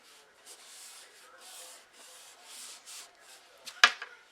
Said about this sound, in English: We'll just burnish that down for a bit.